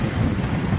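Sailboat under way under mainsail and genoa, a continuous rush of wind buffeting the microphone with water washing along the hull, steady and fairly loud throughout the brief moment.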